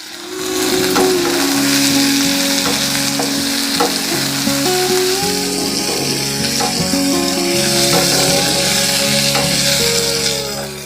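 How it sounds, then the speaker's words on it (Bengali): Chopped tomato pieces tossed into onions already frying in a pan give a loud, steady close sizzle, with spatula scrapes and clatter running through the whole stretch and no talking. "পেঁয়াজটা আমরা এক মিনিট মতো ভেজে নিয়েছি এবার দুটো টমেটো কেটে নিয়েছি টুকরো টুকরো করে ওইগুলো দিয়ে দেবো"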